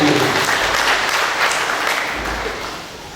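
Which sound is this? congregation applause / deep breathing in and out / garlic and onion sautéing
congregation applause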